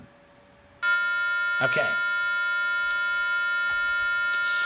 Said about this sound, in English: how is it that we can test, first of all, that the buzzer works?